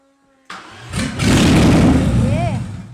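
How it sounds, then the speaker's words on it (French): An engine cranks briefly then catches and fires up, roaring loudly and steadily close by before easing off, with people talking over the noise. "Voilà, le moteur craque. Donc ça veut dire que ça va démarrer."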